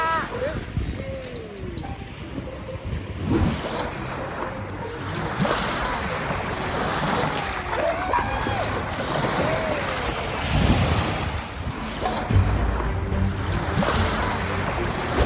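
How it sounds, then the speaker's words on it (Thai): Sea waves washing ashore at a beach with steady wind noise, a continuous broad rush with surges throughout, while voices talk intermittently over it. "คลื่นลมก็สงบดี"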